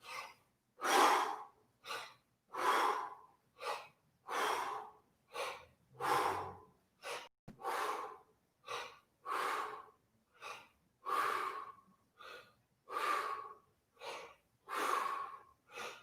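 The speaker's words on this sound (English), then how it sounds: "All right, 15 breath squats. Get those feet nice and wide and balanced. Exhale first." Rhythmic breathing during breath squats in a vocal warm-up, a steady series of about fifteen forceful, airy exhales and gasping inhales, close and evenly spaced, with no talking.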